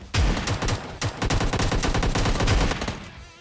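Rapid automatic gunfire rattles in a shooting video game, with dense bursts of shots and brief pauses between volleys, loud and close with no speech.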